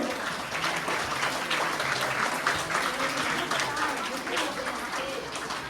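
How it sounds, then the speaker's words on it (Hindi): Steady audience applause welcomes a guest at a cluster-level Rashtriya Ekta Parv event, a dense, even wash of many hands clapping that runs without pause at moderate volume. "एक बार जोरदार तालियों से सभी स्वागत करेंगे।"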